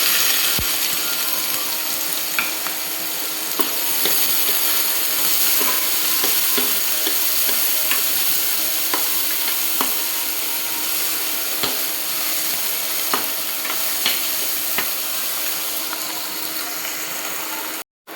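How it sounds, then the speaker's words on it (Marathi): Onion with garlic paste sautéing in a pan for rajma: a steady, loud sizzle and crackle runs throughout, with occasional scrapes and clicks of stirring, close up and with no talking. "कांदा छान परतला आहे."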